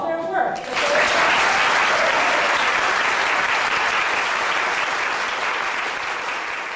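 A church congregation at First Congregational Church of Alameda breaks into loud, sustained applause during a celebration service, with a brief quieter moment before the full clapping swells and holds steadily to the end.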